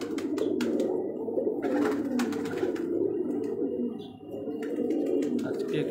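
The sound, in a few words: domestic pigeons cooing on a rooftop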